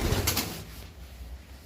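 A pigeon being handled for sale gives a soft low coo after a brief loud rustling burst at the start, then murmurs faintly and steadily for the remaining moment.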